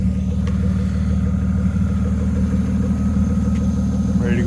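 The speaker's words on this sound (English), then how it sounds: "she's idling out of the garage finally" A BMW E36 M3 engine idles with no muffler, a steady, loud, low-pitched burble with an even pulsing rhythm, heard from close by.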